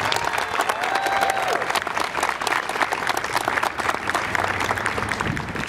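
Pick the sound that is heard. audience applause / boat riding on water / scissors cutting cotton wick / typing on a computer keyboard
audience applause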